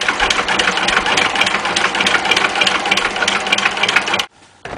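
Small turbine generator spinning fast, giving a steady close buzzing whir with a rapid fluttering pulse that cuts off abruptly near the end.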